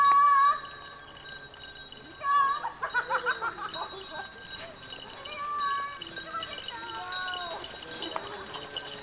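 Bells on a herd of dairy goats ring as the animals arrive at a goat farm, light jingling that grows closer, mixed with bleats and scattered voices.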